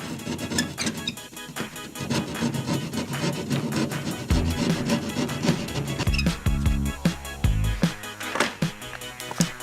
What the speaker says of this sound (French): Pour ensuite la découper à la scie à guichet.